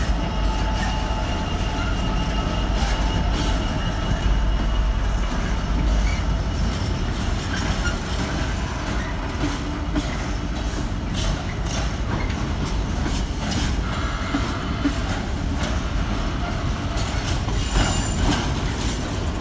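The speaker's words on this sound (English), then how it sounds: "Nice big long freight train." A long GBRF Class 66 freight train rolls steadily through Leicester station, a continuous loud rumble of wagons with clickety-clack wheel beats and occasional metallic squeals, no voices.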